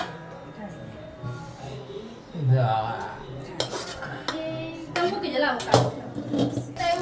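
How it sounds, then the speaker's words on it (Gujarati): Metal pan and utensils clanking and scraping at home while peanut brittle is poured out, repeated close clatters and knocks with voices talking throughout. "અમારા મમ્મી સિંગ પાક ઢાળે છે"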